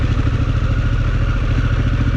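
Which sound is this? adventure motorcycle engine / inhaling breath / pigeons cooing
adventure motorcycle engine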